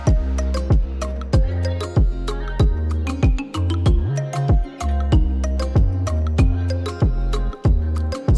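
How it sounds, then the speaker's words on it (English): Tambourine closing out an afro/moombahton remix built in FL Studio, with crisp repeated jingle hits riding over a thick, bouncing bass line and beat, loud and up front. "I end with my famous Madsko tambourine"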